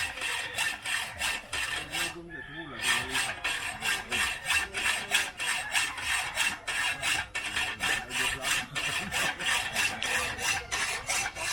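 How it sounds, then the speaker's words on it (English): A hacksaw cuts with steady back-and-forth rasping strokes on a budget bungalow build site in the Philippines; the strokes are close and regular and pause briefly once. "just cutting it by the hacksaw"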